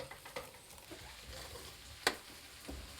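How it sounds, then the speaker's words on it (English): Vegetables sizzle quietly in groundnut oil in a pan, a faint soft crackle with a few small pops and one sharp louder spit near the end, no voices. "And you can hear already that it's beginning to sizzle."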